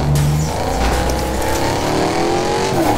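A muscle car in the video game Fortnite drives steadily, its engine droning and rising in pitch with a continuous loud roar throughout, no talking.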